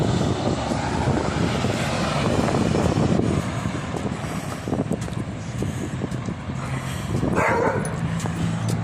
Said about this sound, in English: Well, we got barking dogs now.